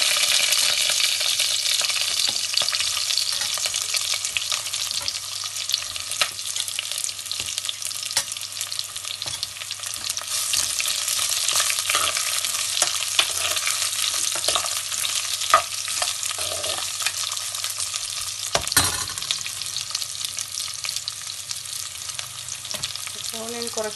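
Onion sizzling in hot oil with crackled mustard seeds, curry leaves and dried red chillies for a Palakkad-style Kerala fish curry, a loud, continuous close frying hiss with intermittent stirring clatter throughout.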